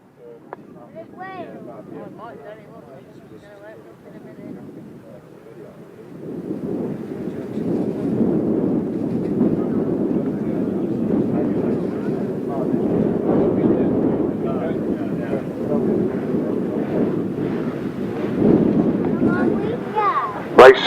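350cc solo grasstrack motorcycles rev together at the start of a 2009 Worcester grasstrack race, a low rumble swelling after a few seconds into a sustained, loud, massed engine roar.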